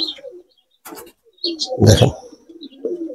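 Pigeon in a pigeon house giving a low, short coo, close by, amid a few soft chirps and rustles, with someone speaking intermittently around it.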